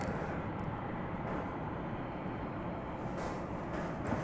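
Delta airliner at DFW Airport at night, a steady low engine roar held at a constant level, moderately distant, with no voices.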